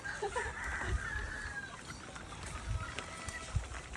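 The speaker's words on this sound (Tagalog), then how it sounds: "Kausapin mo yung mga manok." Hens clucking softly at a distance over a low rumble of background noise, with a few brief higher calls scattered through.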